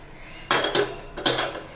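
Dried red chillies tempered in a small pan are poured into peanut chutney, giving two quick metallic clanks with short sizzling bursts in an otherwise quiet kitchen.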